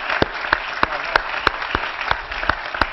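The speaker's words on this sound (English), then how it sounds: "we can clap" An audience claps at a university talk featuring city mayors. The steady, fairly loud patter is punctuated by sharp individual claps at a roughly regular beat, with no talking.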